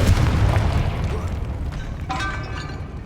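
A Confringo fire spell explosion in the video game Hogwarts Legacy sounds as a heavy, rumbling blast that fills the clip, followed by a brighter ringing, crackling magical tail near the end.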